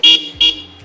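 Two short, loud beeps from an upgraded horn fitted to a TVS Ntorq scooter, each bright tone lasting about a tenth of a second with a brief gap between them, close up.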